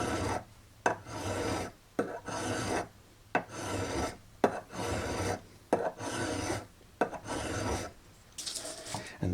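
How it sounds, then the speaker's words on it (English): A metal file rasps back and forth across a control shaft clamped in place during an MRC 760 repair, with close, regular strokes in bursts of about a second separated by short pauses. "it fits a little bit tighter than I like, so I'm just going to file a little bit more off of here"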